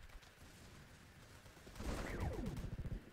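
Automated turrets in the Polyguns shooter let off rapid bursts of gunfire, building from a quiet start into a louder, close stutter of shots at the end, with no voices over it.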